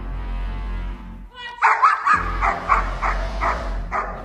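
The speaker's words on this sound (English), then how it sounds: "we watch and they start barking at somebody" Protection dogs bark in a quick volley of sharp, loud barks after a short pause, several barks in succession close by.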